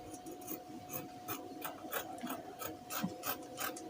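Scissors cutting fabric for a pair of shorts, snipping in a steady series of short crisp cuts, close and fairly quiet with no talk.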